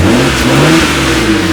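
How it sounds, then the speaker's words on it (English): Loud BMW 135 race car engine revving close by with a steady roar and a faint whistling turbo whine on top, no voices. "Just little turbo noises."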